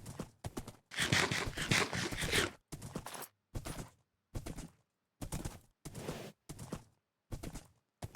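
Hoofbeats of a horse walking in a space-themed video game, arriving in short clustered bursts of clopping separated by near-silent gaps, fairly close and clear.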